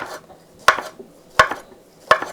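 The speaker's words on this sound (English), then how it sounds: "I'm just going to take the sausage and just cut it up real nice like" A knife slicing andouille sausage on a cutting board in a home kitchen, three sharp evenly spaced chops about 0.7 seconds apart, close and clear, with faint softer scrapes between them.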